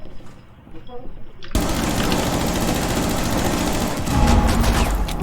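Rapid automatic gunfire in Rainbow Six Siege, aimed at a player's shield, bursts in abruptly after a quiet start and runs loud and continuous, with heavier thuds near the end.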